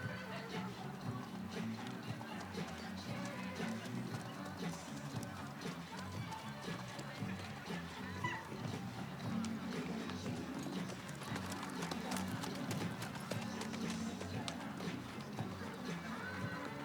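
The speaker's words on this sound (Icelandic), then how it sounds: "hér kemur óvalóttur glæsi hestur Baron frá Bala" Hooves of the stallion Baron frá Bala, an Icelandic horse at a breeding show, clip-clop steadily and quickly on the track throughout, under continuous crowd and field noise.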